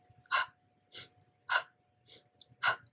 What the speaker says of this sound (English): Let's bring in the breath right now